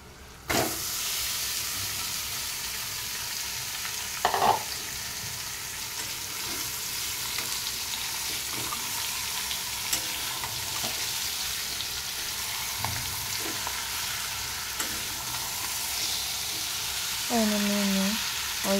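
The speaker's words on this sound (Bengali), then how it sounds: "ভালো করে আমি নাড়াচাড়া করে নেব, নাল করে ভাইজা নেব আর কি" Onions with ginger paste fry in a pan for chicken kosha, giving a steady, even sizzling hiss with occasional soft knocks of stirring and a brief clatter near the end.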